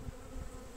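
Honeybees hum softly in a young nucleus colony that is building out foundation comb. A faint, close, continuous buzz runs through the moment, with no voices.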